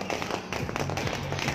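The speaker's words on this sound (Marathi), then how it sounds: "फटाक्यांची जोरदार आतिषबाजी इथे पाहायला मिळते आपल्याला." Firecrackers crackle amid a Ganesh immersion procession in Miraj, a dense run of sharp pops and taps over a loud, busy crowd backdrop.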